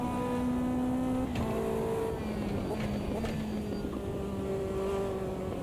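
A Lotus 620R race car in the Automobilista 2 racing game holds a steady engine drone while accelerating, its pitch climbing slightly, at a moderate, even level with no talk.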